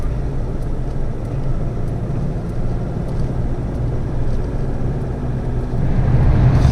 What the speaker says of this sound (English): The gravel truck. There we go.